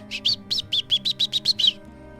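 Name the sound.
blackbird singing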